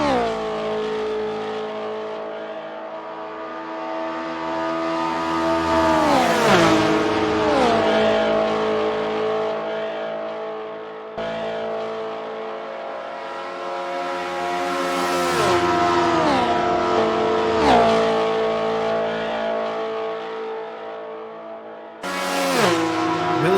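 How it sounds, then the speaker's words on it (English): Race cars lapping Le Mans in a racing video game, engines droning steadily and rising to loud high-revving passes, with downshifts and pitch drops as cars sweep by in repeated waves. "Zenalia actually started to gain pretty significantly on Beal out front in Class 1."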